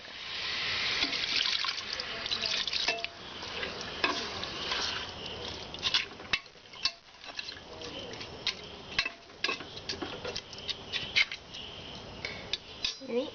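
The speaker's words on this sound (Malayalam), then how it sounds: "ഇനി നമുക്ക് ബീഫ് വേകുന്നതിന് വേണ്ടിയിട്ട് കുറച്ച് വെള്ളം ഒഴിച്ചു കൊടുക്കാം." Water poured into beef masala in a pressure cooker for Kerala-style beef biryani, a splashing, running-water sound with scraping clatter through the middle and sparse clinks later on.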